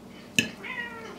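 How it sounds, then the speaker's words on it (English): A single short cat meow rises at close range in a quiet kitchen, a brief bright call followed by faint trailing sound and low room noise. "And a cat."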